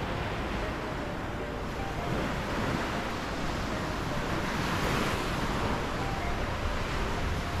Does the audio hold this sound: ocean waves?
yes